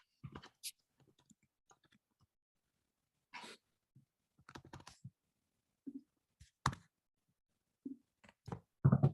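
A computer keyboard being typed on in short, scattered bursts of quiet key clicks, close by, with pauses between runs of keystrokes.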